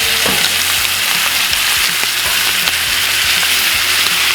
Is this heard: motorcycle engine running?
no